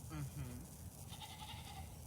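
Sheep at an animal sanctuary bleat faintly in the distance, a couple of short wavering calls under steady background noise and soft voices.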